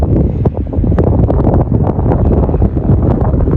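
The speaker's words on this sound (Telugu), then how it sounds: "ఎంత మంచి గాలి వస్తుందో ఇక్కడైతే" Wind blows hard near the Parigi windmills on a motorcycle ride stop, a loud, continuous, blustery rumble battering the microphone without a break.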